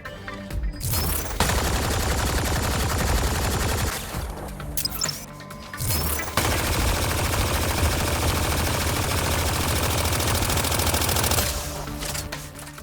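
Rapid automatic gunfire with the Turbocharge ability in Mass Effect: Andromeda, loud and sustained, in long continuous bursts broken by two brief pauses and ending in a short quieter stretch.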